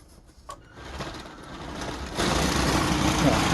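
Bruder D5 toy bulldozer's electric motor whirring steadily as it pushes a load of bolts and metal parts, the mechanical hum growing louder and denser partway through.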